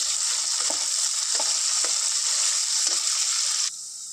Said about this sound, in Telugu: ఒక టూ ఆనియన్స్ ఒక ఫైవ్ మిర్చి వేసుకుంటాను ఫ్రెండ్స్ ఇవన్నీ ఫ్రై చేసుకుందాం